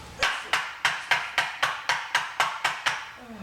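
Cold process rose soap is smacked by hand in ten evenly spaced, sharp, loud slaps, close up and steady, with no talking.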